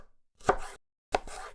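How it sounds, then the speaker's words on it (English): Tomatoes being chopped on a board, two separate knife strokes, each a sharp close thud with a short crunchy tail, and silence between them. "First we chop the tomatoes."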